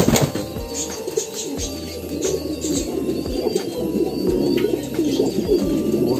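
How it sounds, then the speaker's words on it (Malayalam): Fantail pigeons in a loft coo in low, repeated throaty calls, several birds overlapping close by, a steady soft chorus with no talk. "ലോഫ്റ്റിൽ വളരെ അട്രാക്റ്റീവ് ആയിട്ടുള്ള ബേർഡുകളാണ് ഫാൻഡെയിൽസ് അഥവാ മയിൽപ്രാവുകൾ എന്ന് പറയുന്നത്"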